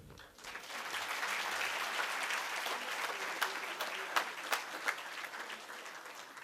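An audience at an academic award ceremony applauds, sustained and fairly loud, with a few sharper claps standing out near the end.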